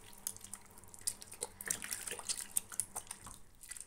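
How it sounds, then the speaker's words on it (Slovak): Warm water runs from a tap as hands are washed beneath it, a soft, continuous splashing and trickling with small irregular drips, fairly quiet and without speech. "tak si ich môžeme umyť. Umieme ich v teplej vode."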